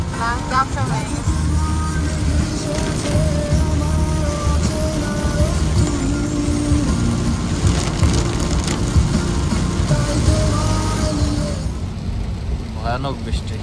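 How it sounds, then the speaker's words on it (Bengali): Heavy rain pours on a car during a long drive toward Cox's Bazar from Chittagong, a steady dense patter over the running engine and road noise, with people talking inside the cabin. "ভয়ানক বৃষ্টি।"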